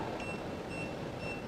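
A Neauvia aesthetic treatment device gives short, thin, high beeps in twos that repeat about every half second, faint beneath a steady hiss of background noise.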